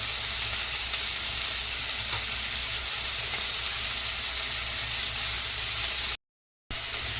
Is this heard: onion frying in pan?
yes